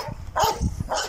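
A dog gives a few short, fairly close barks and yips with whimpering mixed in, loud and uneven, at an animal shelter.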